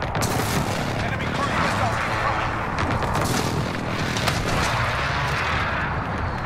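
Rumbling air strike explosions and scattered gunfire in the video game Cyber Attack, a steady heavy barrage of booms under occasional radio-style voices.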